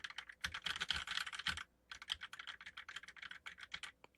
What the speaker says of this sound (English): it still picks up keyboard noise pretty good